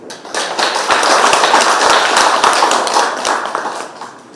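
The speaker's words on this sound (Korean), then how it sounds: "여러분 큰 박수로 맞이해 주십시오" An audience claps to welcome the Yeongju Shinmun newspaper representative at a literary awards ceremony. The claps are close and distinct, swell into steady applause, then taper off near the end.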